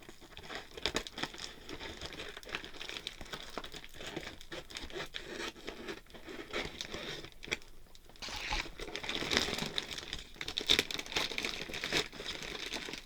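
A plastic bag crinkles and tears as it is pulled free from a taped cardboard box. The rustling is close and continuous, growing louder in the second half, with no voices.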